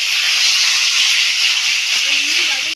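Taro leaves hiss loudly and steadily in a hot pan as they are stirred, a dense sustained sizzle close up that cuts off abruptly at the end.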